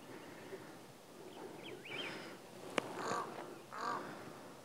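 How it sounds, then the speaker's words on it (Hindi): A crow caws a few times outdoors on a mountain trail in Himachal Pradesh, hoarse calls standing out against breezy background noise, with a sharp click in between. "कौआ बुला रहा भाई"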